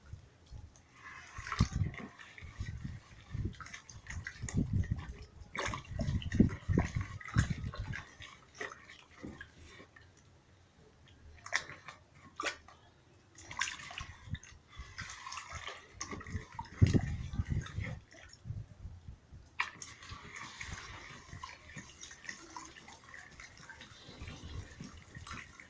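Emulsion paint being stirred by hand after titanium dioxide is added, irregular wet sloshing and scraping strokes in bursts, fairly faint, with quieter pauses between stirring spells.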